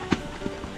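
Horse hooves walking through mud on a trail in Baisaran Valley, Pahalgam, Kashmir, giving three soft, squelching thuds spaced unevenly over less than a second, fairly close.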